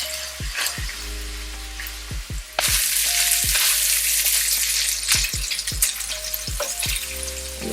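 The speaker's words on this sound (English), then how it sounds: "Let's crisp up some bacon." Bacon crisps in a pan for smashed potato salad, a close, busy sizzle and crackle with occasional light clinks of a utensil against the pan, growing louder partway through.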